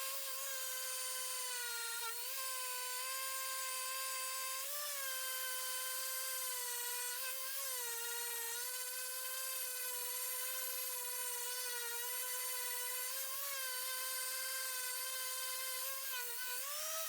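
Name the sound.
sanding wood for bathroom counter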